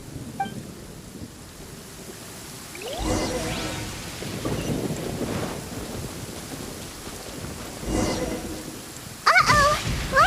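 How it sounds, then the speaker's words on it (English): A thunderstorm rolls through a Genshin Impact game scene, with steady rain, a couple of thunder rumbles and crackling bursts, and a voice speaking briefly near the end. "Uh-oh! Lightning storm!"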